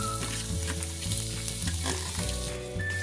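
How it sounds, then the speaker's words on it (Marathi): Finely chopped onion and star anise petals hit hot oil in a pan while cooking mutton sukka, giving a steady, close, dense sizzle and crackle that runs the whole time with no talking. "एक कांदा बारीक चिरलेला घालूया"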